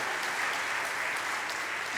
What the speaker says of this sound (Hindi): एक बार ताली बजा दो भैया, तुम लोग खा के आए।